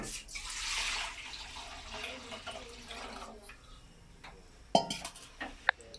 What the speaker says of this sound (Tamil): இப்போ நம்ம வந்து ரெண்டாவது பாலை வந்து ஊற்றிக்கலாம்